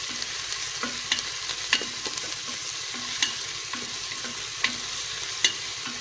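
Tomatoes stirred and frying in ghee in a pan while green beans and meat cook, a steady soft sizzle with regular scraping stir strokes and occasional clicks of the spoon against the pan.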